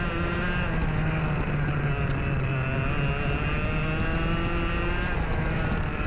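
A kart engine held under throttle while bouncing over bumps, a continuous buzzing drone with wavering pitch, loud and close, with no talking.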